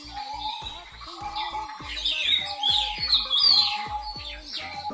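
Morning birdsong: several birds chirp and tweet in quick overlapping calls, fairly close and lively, with repeated short notes and no talking.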